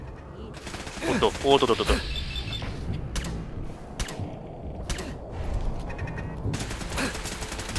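Automated gun turrets fire in Fallout 4's Nuka-World, a run-down theme park: rapid mechanical bursts and clanking shots come in several volleys, moderately loud, under a man's brief startled exclamations.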